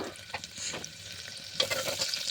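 Chana dal, urad dal, mustard seeds and cumin sizzle in hot oil in a pot, crackling steadily while a utensil stirs. Close up, brief, with no talking.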